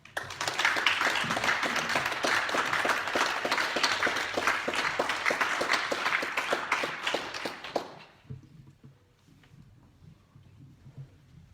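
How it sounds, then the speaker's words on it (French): Applause from the members and audience of a French town council after a newly elected mayor is proclaimed: dense, steady clapping from many hands lasts about eight seconds, then stops abruptly, leaving a quiet room. "je pense que ça mérite nos applaudissements"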